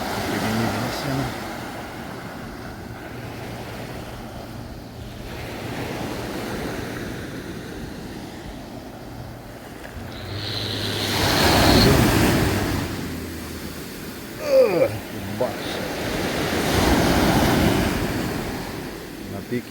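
Sea waves wash over a pebble beach in Budva, Montenegro, near a defensive stone wall, with a steady windy wash rising into louder surges midway and again near the end.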